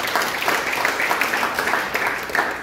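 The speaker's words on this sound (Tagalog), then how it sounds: "nagsabi ng amen at pumalakpak ng malakas sa ating Panginoon" A church congregation claps loudly during a sermon, producing a steady, dense wash of hand claps that holds at an even level throughout.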